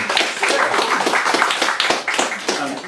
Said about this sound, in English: so more applause please for James Easton